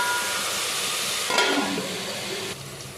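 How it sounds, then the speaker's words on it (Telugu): Onion, tomato and green chilli frying in hot oil, a loud steady sizzle with brief stirring scrapes partway through, close and continuous without speech. "ఉల్లిగడ్డ, టమాటా ఫ్రై అయిపోయింది."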